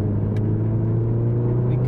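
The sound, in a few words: Mazda MX5 car engine driving in snow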